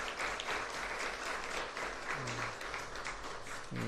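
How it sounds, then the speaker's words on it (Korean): A crowd applauding steadily and fairly loudly at a university chapel service, a dense wash of clapping that continues throughout without pause. "우리 박수, 따뜻한 박수로 환영하고 격려하겠습니다"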